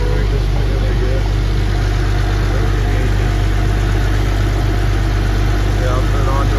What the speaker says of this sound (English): Okay, so I started the tractor.